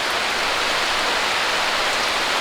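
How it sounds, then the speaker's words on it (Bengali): Rain falls steadily, a dense, even hiss of drops on surfaces that stays constant throughout with no talk. "তো বৃষ্টি চলে এসেছে"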